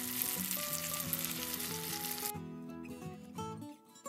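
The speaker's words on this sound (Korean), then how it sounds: "한번 뒤집어서 안쪽 김 부분도 확실히 튀겨주세요" Seaweed chips (gim-bugak) frying in hot oil, a steady bright sizzle running throughout, with tonal music layered over it and the oil noise dropping away partway through.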